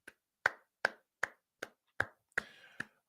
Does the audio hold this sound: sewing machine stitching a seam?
no